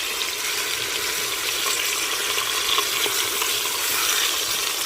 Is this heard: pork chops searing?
yes